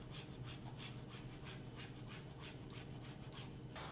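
A frozen stick of unsalted butter rubbed over a grater, a quiet, rhythmic series of short scraping strokes, about a dozen in quick succession, with no talking.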